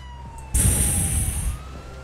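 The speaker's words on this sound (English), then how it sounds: "why do you have sirens on a Civ truck?" A loud emergency siren from a civilian truck in GTA 5 bursts in abruptly, high and steady, holding for about a second before cutting off, over a low engine rumble.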